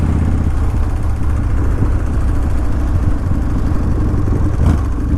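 A custom-built motorcycle engine runs close by, a loud, steady low rumble with fine mechanical clatter and a slight swell near the end.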